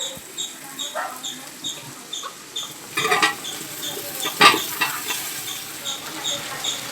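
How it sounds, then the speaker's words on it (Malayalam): Tapioca and boiled beef are stirred together in a pot for kappa biryani, giving a soft scraping, sizzling texture with irregular stirring strokes and a few louder clatters, close and fairly quiet, with no talk. "നമ്മൾ ഇതിലേക്ക് കപ്പയും ബീഫും കൂടെ ഒന്ന് ഇളക്കണം."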